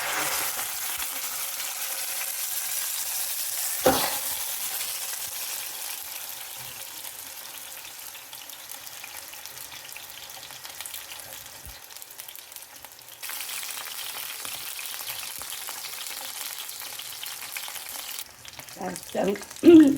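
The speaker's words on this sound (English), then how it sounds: "listen to the sizzle." Beef searing in a hot pan sizzles and spits steadily for the whole stretch, a close, continuous crackling hiss with one sharp clatter early on and a few brief knocks near the end.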